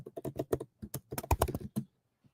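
Quick runs of keystrokes on a computer keyboard, close and soft, clattering in a brief uneven burst and then trailing off into quiet.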